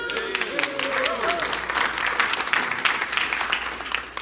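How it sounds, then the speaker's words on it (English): Dense, steady applause from a crowd at a Rotary Club of Tucson meeting fills the room throughout, with voices and cheers mixed into the clapping. "Love that crowd noise."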